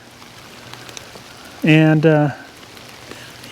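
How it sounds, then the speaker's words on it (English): Rain falls at a lake during a fishing trip, a soft, constant patter in the background while someone speaks briefly over it. "lots of rain"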